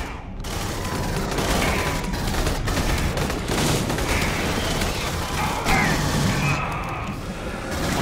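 Heavy gunfire in Aliens: Colonial Marines: sustained, loud bursts of rifle fire layered with impacts and crashes, rolling steadily through the whole span.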